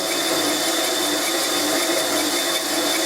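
A band saw cuts through a workpiece in a loud, continuous whine with a steady machine drone that holds unchanged from start to finish.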